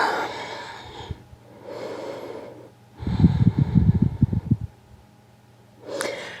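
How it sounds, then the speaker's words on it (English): Slow breaths in and out during a yoga pose, each one a soft airy rush followed by a rougher, louder nasal exhale, heard close and alone with brief pauses between. "Breathe in, breathe out."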